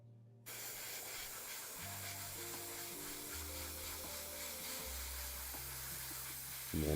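Aerosol spray primer hissing steadily over Warhammer Skaven rat miniatures, a continuous close, fairly loud spray running almost the whole time after a short silent start, with a brief louder burst at the very end.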